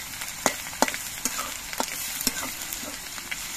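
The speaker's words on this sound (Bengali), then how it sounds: "তেলের মধ্যে দিয়ে রসুনটা একটু নাড়াচাড়া করে নিতে হবে" Garlic frying in oil gives a constant crackling sizzle, and a spoon scrapes the pan in sharp, irregular strokes as it is stirred close by.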